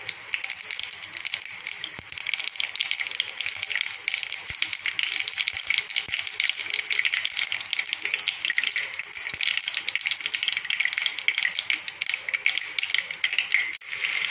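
Mustard seeds splutter and pop in hot sesame oil while making an Indian gooseberry pickle, a dense, continuous crackle of rapid sharp pops close by.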